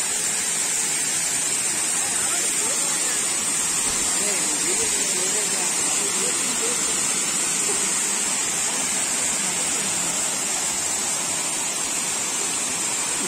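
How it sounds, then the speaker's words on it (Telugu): A waterfall pours from above at a bathing spot, a dense, loud and steady hiss of falling water that holds without a break throughout. "పైనుంచి వాటర్ పడుతుంటే అట్లా ఎంజాయ్ చేస్తారండి"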